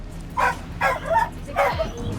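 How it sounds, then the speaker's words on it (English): Puppies with their mother, about two weeks old and up, being transported in bedding by animal protection staff: three short whimpering yips come in separate bursts, fairly close and clear over a low background hum. "We have a mom with puppies."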